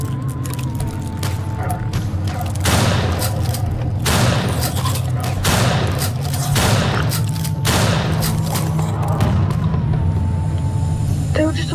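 Bursts of gunfire from a video game with a nearly empty gun, loud repeated volleys and booms over a steady background, with a voice talking throughout.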